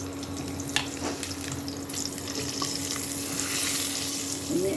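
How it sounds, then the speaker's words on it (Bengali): Potato pieces frying in hot oil, a steady low sizzle with some soft stirring, for a vegetable biryani. "এক এক করে প্রথমে আলু ভেজে নিলাম।"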